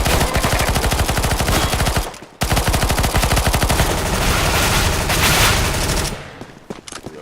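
PP submachine gun in the CS:GO video game firing long, rapid automatic bursts, loud and close, with a short break between bursts and a trailing off at the end.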